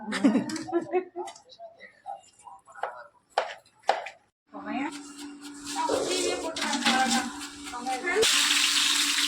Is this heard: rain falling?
no